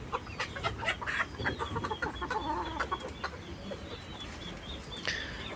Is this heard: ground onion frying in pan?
no